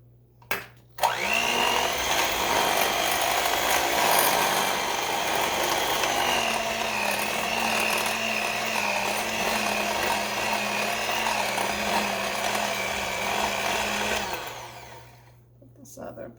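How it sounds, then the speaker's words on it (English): An electric mixer motor whirs continuously while beating banana bar batter, a steady close hum with a rattling, ratchety edge whose pitch shifts slightly as the batter thickens, starting abruptly and tapering off near the end. "you can hear the motor working a little bit more"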